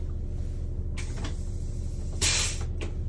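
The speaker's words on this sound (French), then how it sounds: "Contrôle d'ouverture et de fermeture des portes." A MAN bus door swings open with a hiss and a thud, then shuts with another pneumatic whoosh, over a steady idling engine hum.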